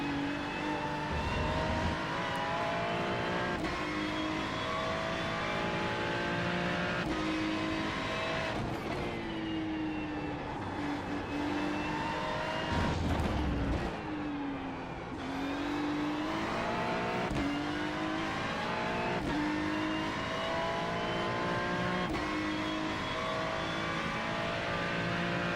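McLaren Artura GT3 race car engine in the iRacing sim at Road Atlanta, revving loudly and continuously with rising and falling pitch through gear changes, brief dips as it lifts off, no talking.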